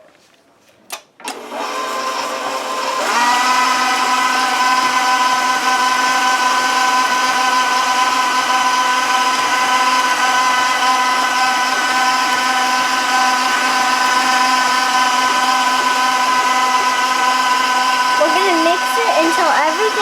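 An electric mixer starts after a few clicks and then whirs at a loud, steady pitch while mixing cream cheese pound cake batter, with a voice speaking over it near the end.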